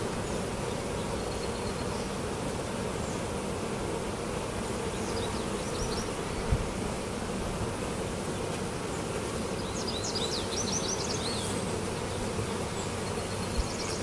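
A swarm of honeybees hums steadily around a hive, a dense, continuous buzz holding at an even level throughout, with a couple of soft knocks and no speech.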